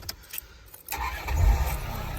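A Land Rover Discovery 2 engine cranks and turns over, rising into a low rumble as it catches, heard close by with no voices.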